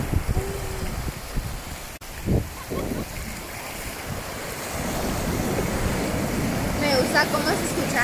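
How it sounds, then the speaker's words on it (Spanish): Ocean waves wash onto the beach at Playa La Ropa in Ixtapa, a continuous roaring surf with wind buffeting the microphone, a sharp knock near the start and brief faint voices. "Cómo se escuchan las olas"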